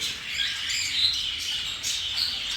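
Cockatiels in a flight aviary give repeated harsh, high squawks and chirps that overlap in a steady, fairly loud chorus close by.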